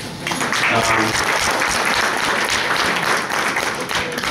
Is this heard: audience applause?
yes